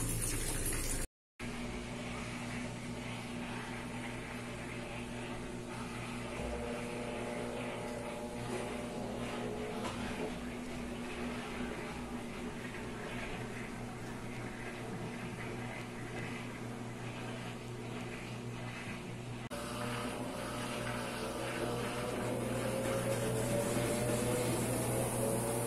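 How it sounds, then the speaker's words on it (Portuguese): A household washing machine starting its spin cycle after washing sheets, water draining out: a steady motor hum with sustained tonal whine and pump noise throughout, rising and brightening near the end as the drum speeds up. "A água já tá saindo e agora nós vamos centrifugar,"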